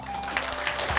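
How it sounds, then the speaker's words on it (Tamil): A brief burst of audience applause comes from a crowd at a spiritual talk. The clapping is dense and moderately loud, with a steady tone humming beneath it. "அப்புறம் அண்ணனுக்கு ஒரு கைத்தட்டல், நம்மளுடைய சிறப்பான கைத்தட்டல்."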